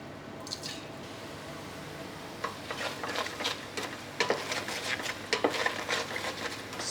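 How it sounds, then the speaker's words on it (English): Chili and ginger tipped into a very hot pot sizzle and crackle with irregular wet pops and spatters, quiet at first and growing busier and louder over several seconds, with no talking. "As soon as this hits the base, it's going to start sizzling."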